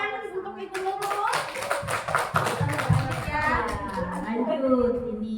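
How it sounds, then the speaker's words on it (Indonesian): A group claps in a quick, busy patter for a teacher, with voices talking and calling out over the clapping. "Tepuk tangan untuk Ibu Nurul."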